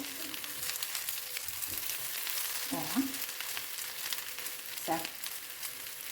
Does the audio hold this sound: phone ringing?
no